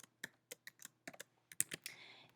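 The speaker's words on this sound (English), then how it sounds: "this time I'm going to use my keyboard because I can" Quick bursts of keys being struck on a computer keyboard, irregular clicks and taps spaced through a couple of seconds, close and crisp in a quiet room with no talking.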